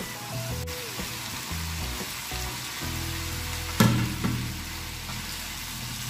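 Vegetables sauté in a hot pan with a constant close hiss and sizzle, punctuated by a sharp clatter partway through as more go in, then a brief rustle settling back into steady frying.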